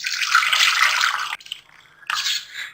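Chicken stock (yakhni) for Lahori chicken pulao is poured through a kitchen strainer, a close, steady splashing pour that breaks off briefly and then resumes.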